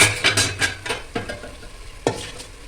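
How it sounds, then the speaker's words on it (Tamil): Washed rice tipped into a pot of masala and stirred with a spoon, giving a close series of scraping, rustling strokes and soft sizzling, with one sharper scrape near the end and no talking. "அரிசியை போட்டுக்கிறேன்"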